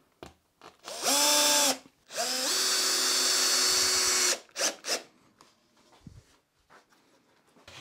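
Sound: driving screws into a workbench strip with a drill

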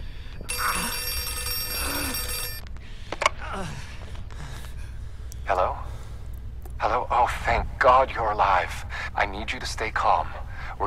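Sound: telephone ringing in video game Outlast 2

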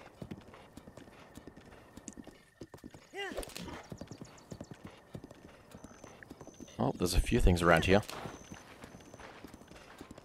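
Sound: horse hooves clip-clop in Zelda Breath of the Wild video game

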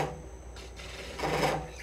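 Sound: lathe tool cutting the nub off a green wood bowl

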